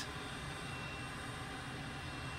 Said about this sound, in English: Right, let's jump back in the front seat now the engine has started.